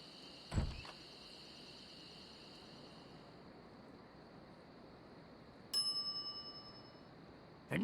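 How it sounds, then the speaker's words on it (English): A single shop counter bell in The Secret of Monkey Island rings once with a bright, ringing tone that fades away, over a steady electronic hiss, with a dull thump earlier. "some idiot's already ringing that stupid bell"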